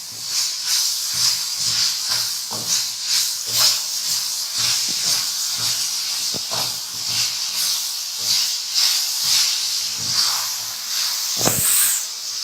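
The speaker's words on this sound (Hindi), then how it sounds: "अब इन सब चीज़ों को हमने अच्छी तरह से भूनते जाना है।" Carrots and other ingredients for gajar halwa frying in a pan give a steady close sizzling hiss, broken by frequent soft clicks and scrapes of stirring throughout.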